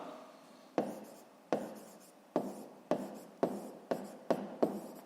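Pen writing on paper while working a fifth-grade math exercise: a series of short scratchy strokes, each starting sharply and fading, about eight in a row with no voices.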